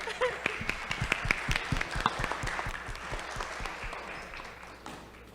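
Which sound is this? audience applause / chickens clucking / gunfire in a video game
audience applause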